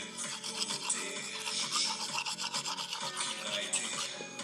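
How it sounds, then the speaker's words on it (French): A toothbrush scrubs teeth in quick, rhythmic back-and-forth strokes. The rasping sound is close and steady, with no talking. "Oh, c'est chiant de se brosser les dents."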